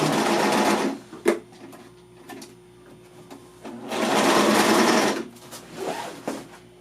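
A sewing machine stitches bias binding onto the edge of fabric, sewing slowly and carefully. Two long bursts of rapid, close-up mechanical whirring are separated by a quieter pause with faint handling noises.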